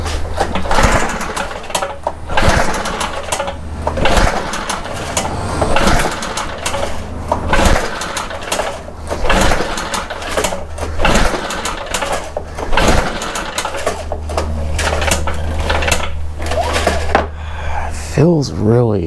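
Stihl BR800 backpack blower engine running on choke at about half throttle, a close, buzzy two-stroke drone with uneven sputtering pulses and occasional dips, with brief talk near the end.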